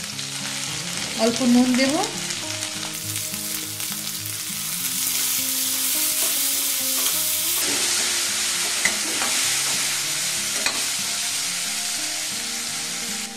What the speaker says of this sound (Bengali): এবার আমি এখানে 2টো টমেটো দিয়ে দিচ্ছি।